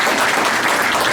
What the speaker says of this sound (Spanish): Pues vamos a recibirlo con un fuerte aplauso.